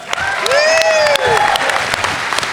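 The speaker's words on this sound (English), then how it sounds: "Can we get a clap on that?" Loud, steady audience clapping at a fan convention panel fills the scene, with a whooping voice rising and falling over the applause.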